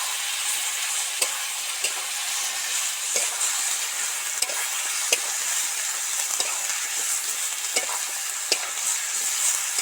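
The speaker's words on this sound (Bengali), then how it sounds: "সব মশলাগুলো তো ভাজা হয়ে গেছে, সবজি থেকে তেল ছেড়ে গেছে।" Spices and vegetables fry in oil in a pan for a Bengali rohu fish curry with papaya and lentil bori, giving a steady close sizzle broken by regular scraping stirs roughly every second, with no talking.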